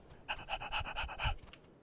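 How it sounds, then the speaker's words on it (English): Hard, rapid panting breaths blown straight into a microphone during a winter match of the PUBG game, a string of about eight rhythmic puffs, loud and close with no talking. "I just breathed into the mic really hard,"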